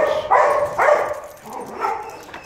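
A dog meeting another dog gives a few short, muffled woofs and whiny whimpers close by, in uneven bursts over a low background hum.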